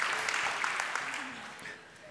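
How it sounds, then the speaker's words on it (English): Church congregation claps for itself during a sermon, a brief burst of moderate applause that fades toward the end, with a voice faintly audible beneath. "Now guys, give yourselves a round of applause"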